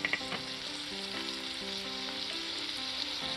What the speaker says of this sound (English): Bring it to a sizzle.